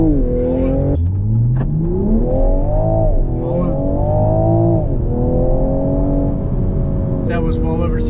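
A 2022 Toyota GR Supra with the B58 engine accelerates hard from a standstill, its loud, close engine note climbing steadily through the revs, easing briefly and rising again.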